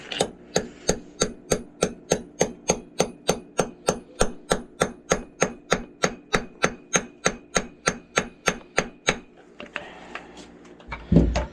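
A small hammer taps steadily, around three dozen quick metallic strikes at an even rhythm, then stops and gives way to brief rustling and a thump.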